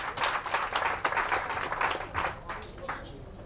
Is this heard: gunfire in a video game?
no